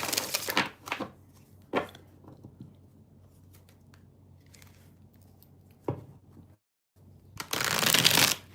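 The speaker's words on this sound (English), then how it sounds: "Let me just shuffle these." Witches Tarot deck shuffled by hand, crisp riffling bursts and card taps separated by quiet pauses, ending with a longer, louder shuffle.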